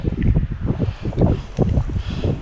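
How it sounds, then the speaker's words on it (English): Strong gusting wind on a hilltop buffets the microphone in heavy low rumbling surges, loud and continuous with a few stronger blasts. "But it's really windy up here."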